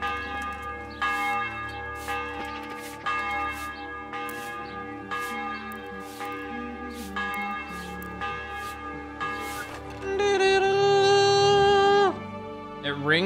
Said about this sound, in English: The bell is ringing.